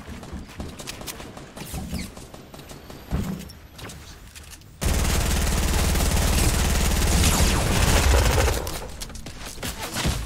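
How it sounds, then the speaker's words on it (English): Video game gunfire in a tournament match, with scattered shots early, then a dense sustained burst of rapid automatic fire from the middle on that is loud and close before easing slightly near the end. "I'm getting shot from both sides again."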